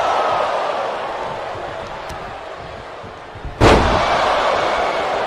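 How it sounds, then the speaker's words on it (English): Wrestler Hulk Hogan body-slammed onto the ring mat by Roddy Piper at a 1996 WCW event, a single sharp, loud thud rising over a steady arena crowd roar. "Hulk Hogan gets slammed down into the mat by Roddy Piper."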